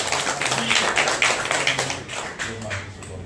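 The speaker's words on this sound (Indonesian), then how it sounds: "Tepuk tangan ini." A crowd at a protest rally in Pati over a property tax hike breaks into dense, sustained applause, a steady roar of clapping heard from amid the gathering with a low hum underneath.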